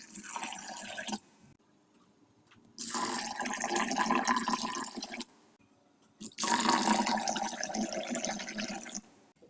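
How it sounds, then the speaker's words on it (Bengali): Water pours and swirls over 500 grams of chana dal (split chickpeas) in a bowl as it is washed, coming in two long rushing bursts of running water separated by quieter gaps. "এবার এই ছোলার ডালকে জল দিয়ে খুব ভালো করে ধুয়ে নিতে হবে।"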